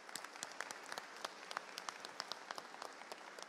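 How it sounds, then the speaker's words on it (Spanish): Scattered applause at the opening ceremony of a Central American and Caribbean championship in Santo Domingo, with sparse, uneven claps at a distance, fairly faint and thin. "se merece un aplauso por eso"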